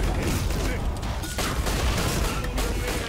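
Dense, continuous video game gunfire from all weapons unloading at once, a loud sustained barrage of overlapping shots and booms with voices talking underneath.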